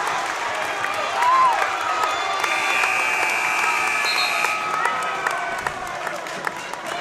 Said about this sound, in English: The crowd is in it.